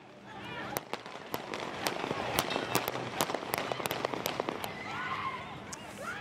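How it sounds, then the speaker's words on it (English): Gunshots fired at night during a protest, a rapid irregular string of sharp cracks that lasts several seconds over crowd noise, with voices shouting in the background. "The shots started just before midnight and lasted almost a minute."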